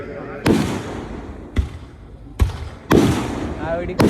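Fireworks at a Kerala temple festival go off in a string of loud, sharp booming blasts at irregular intervals, each with a short crackling tail, and a voice can be heard faintly underneath.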